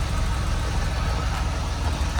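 A Porsche 4S sports car idles nearby with a loud, deep, steady engine rumble and a rough low throb throughout, no voices.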